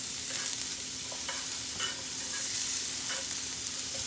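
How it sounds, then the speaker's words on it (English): Summer squash and zucchini sauté quickly in a pan with a soft, steady sizzle and occasional light stirring scrapes, fairly quiet and heard alone without talk. "It's one of my favorite ways to make summer squash and zucchini. It's just to saute them quickly in a pan."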